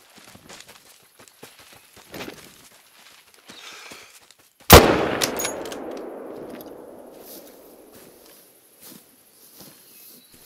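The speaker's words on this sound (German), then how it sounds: "sauberer Schuss." A single sharp, loud rifle shot rings out while hunting warthogs in Africa in the game The Hunter: Call of the Wild, followed by a long fading echo, with faint footsteps and rustling before it.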